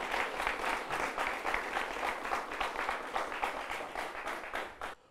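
Spectators at a championship event applaud a sponsor, with rhythmic, loud clapping pulsing in unison for several seconds before it cuts off.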